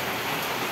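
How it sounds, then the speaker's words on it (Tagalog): Dense, steady roar of heavy rain pouring down, a continuous hiss with no pauses. "Sobrang lakas ng ulan"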